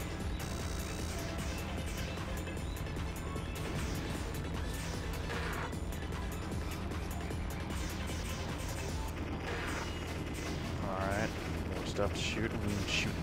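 Rapid gunfire from a Japanese import shoot-'em-up video game, a steady dense stream of shots over game music and effects throughout, with a person talking over it.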